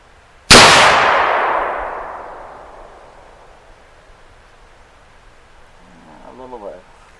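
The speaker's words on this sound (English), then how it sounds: "we're going to shoot the 350 Legend at the target first" A 350 Legend rifle shot at a steel target outdoors lands as one sudden loud blast with a clanging ring that decays over a couple of seconds, followed by brief speech near the end.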